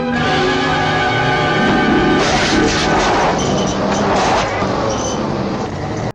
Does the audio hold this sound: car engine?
yes